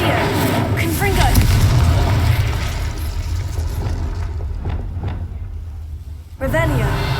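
Confringo and Incendio spell blasts in Hogwarts Legacy erupt as deep booming rumbles amid game noise, with a fresh loud burst near the end, while a voice speaks over the action.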